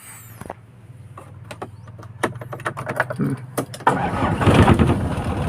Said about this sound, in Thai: คันนี้ติดง่ายนะ จึกเดียวติดเลย